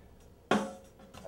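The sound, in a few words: snare drum soloed from recording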